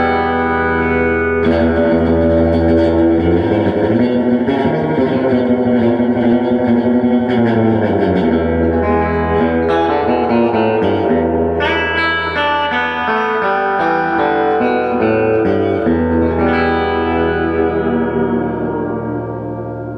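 Twangy electric guitar through a Fender Tonemaster Twin Reverb amp, reverb at 6.5, plays a surf-style melody with heavy spring reverb, loud and continuous, notes ringing and splashing into a wet tail.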